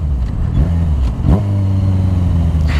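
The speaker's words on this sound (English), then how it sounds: "let's say third gear, we let off throttle like this" A Yamaha FZ6R motorcycle in third gear revs up and drops back as the throttle opens and closes twice, the engine note rising and falling loudly and close, with no popping on deceleration.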